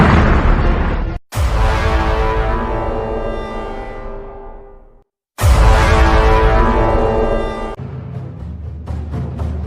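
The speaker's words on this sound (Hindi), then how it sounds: "अचानक एक धमाका हुआ।" Two massive booming explosions, each a sharp blast followed by a long rumbling decay, loud and alone, ending in a crackling, rumbling tail.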